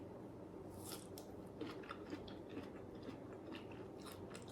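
Asaki melon flesh being bitten and chewed up close, with repeated wet crunching bites and squishy mastication sounds continuing steadily and alone, without speech.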